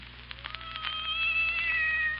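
A cat meows in a 1939 radio drama sound effect, a drawn-out, wavering caterwaul over a faint hum, fairly quiet and heard alone without talk.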